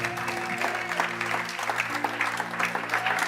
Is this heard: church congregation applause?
yes